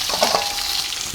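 Onion fries in hot oil in a pan, a brief, loud, even sizzle with a faint scrape near the start.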